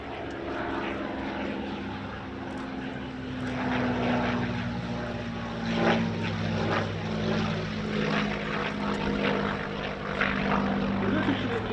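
A Messerschmitt Bf 109G warbird with an inverted engine passes overhead at an air show, its propeller engine a loud, steady drone that swells toward the end, with announcer commentary running beneath.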